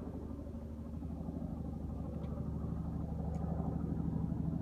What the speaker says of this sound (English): There's a double rotor helicopter going across.